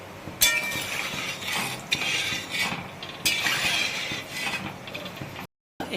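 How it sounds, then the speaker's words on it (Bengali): A spoon clinking and scraping against a pot while a paneer-ball curry (chhanar dalna) is mixed after salt is added, a few sharp metallic clinks over a steady bubbling cooking hiss, close by with no speech. "মিশিয়ে দাও।"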